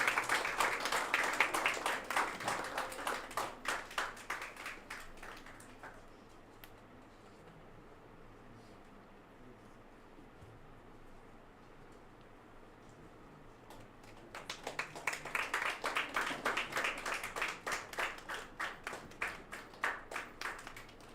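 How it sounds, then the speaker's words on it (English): Audience applause at a national summit on geospatial technology's valedictory award ceremony: a burst of clapping for about five seconds, a quiet pause, then a second round of clapping, moderately distant. "Kindly give him a round of applause."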